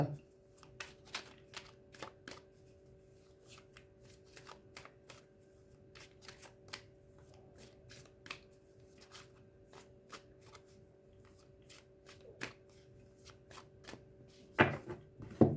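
Tarot cards being shuffled and cut, a series of crisp riffling and tapping bursts at irregular intervals, close, with a faint steady hum underneath and a louder clatter near the end.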